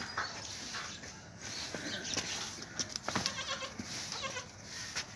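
A heavily pregnant goat offered for sale in Lahore bleats several times in short, irregular calls over a busy, noisy background.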